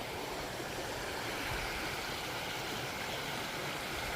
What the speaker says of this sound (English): it's a little nice little creek.